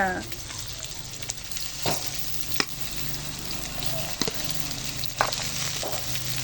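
Goat meat sizzles steadily in a hot pan with garlic, a continuous frying hiss broken by a few sharp clicks as it is stirred.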